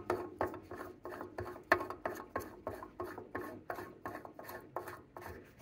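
UVC adapter with a flat rubber seal being screwed by hand onto a stainless drum, a close, quiet series of about a dozen rhythmic rasping turns, each a short scrape followed by a pause.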